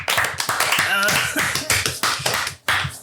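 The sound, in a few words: round of applause, hand clapping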